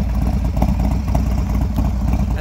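A 2017 Harley Davidson Dyna Low Rider S motorcycle engine revs loud and close, a steady throaty rumble that holds for the whole stretch with no talking over it.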